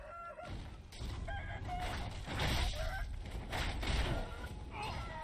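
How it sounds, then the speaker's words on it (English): Chickens cluck and squawk in the video game Sekiro: Shadows Die Twice, a busy flurry of fowl calls mixed with in-game scuffling and impact noises, moderately loud and continuous. "I will not be killed by chicken."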